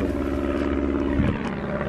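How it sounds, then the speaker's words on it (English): A helicopter passes overhead on a night outside an abandoned mental hospital: a continuous, fairly loud, low rotor and engine drone with a brief thump partway through and no talk. "We thought it was like a helicopter."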